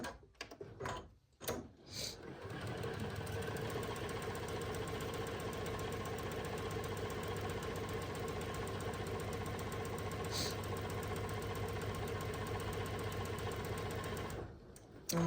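A sewing machine chain stitches quilt block pieces, running in a steady fast mechanical whir for over ten seconds after a few short starting bursts, then stopping near the end.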